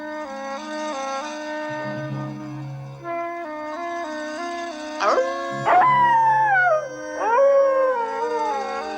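Several wolves howl together in long, overlapping wavering tones, rising and falling, some higher yips breaking in near the end.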